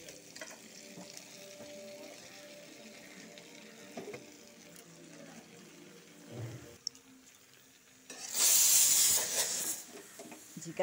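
Chopped ridge gourd is poured into a hot pan of oil and curry leaves for a Bengali gourd-and-potato dish, setting off a sudden loud hiss and sizzle after a stretch of quiet stirring and faint pan noise.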